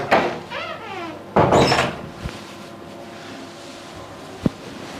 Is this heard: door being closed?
yes